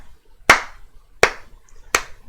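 A voice imitates one person's loud, sharp handclaps: three distinct claps spaced about three-quarters of a second apart, each crisp and prominent against near silence.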